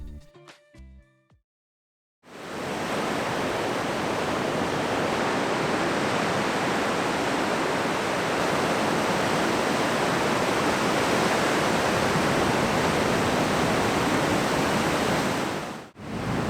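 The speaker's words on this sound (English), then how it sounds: "the waves are quite loud" Loud, steady roar of ocean surf below a coastal bluff at Crescent Heads, New South Wales, starting abruptly and holding constant, close, dense and unbroken for about fourteen seconds.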